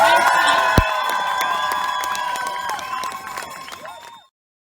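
A crowd cheers and applauds an Olympic champion at a Vancouver 2010 anniversary party, with sharp claps and bright cheering layered over a loud, ringing musical backdrop that ends abruptly.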